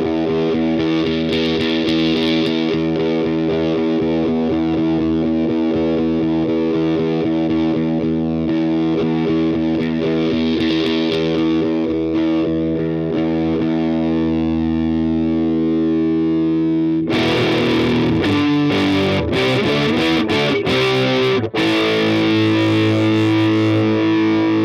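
DOD Boneshaker distortion pedal on a guitar, a thick sustained distorted chord drone with boosted level as the filter sweeps through its frequencies, then choppier, brighter distorted strums near the end; loud, continuous and close, no talking.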